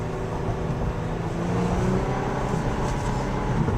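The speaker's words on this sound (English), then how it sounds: "I don't know if you can hear the sweet sound of the engine, but it's awesome." A 2012 Hyundai Genesis Coupe engine pulls hard with a steady, rising drone heard from inside the car as it shifts up into third gear, with no talking.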